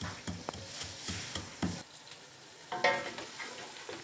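Onions sizzle and fry in a pan as the base for chicken nihari, with soft intermittent stirring scrapes over a steady quiet crackle, close and fairly faint.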